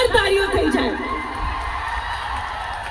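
Audience at a Navratri stage show cheering, whooping and clapping for a performing pair, a loud, busy crowd roar that stays fairly steady throughout with shouts rising above it.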